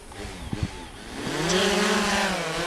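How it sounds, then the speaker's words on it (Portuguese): A drone's electric motors start up outdoors in strong wind. A couple of small clicks come first, then a rising, steady whine builds and holds close by. "Eu vou ligar os motores."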